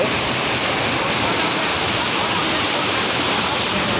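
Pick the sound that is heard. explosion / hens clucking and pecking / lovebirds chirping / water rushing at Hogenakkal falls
water rushing at Hogenakkal falls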